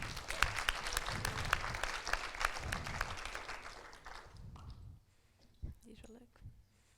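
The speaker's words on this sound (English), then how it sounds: "Give them a warm applause." Warm audience applause after introductions at a livestream premiere of a Delft Hyperloop documentary, a crowd clapping steadily for about five seconds before fading out, then quiet with a bit of talk.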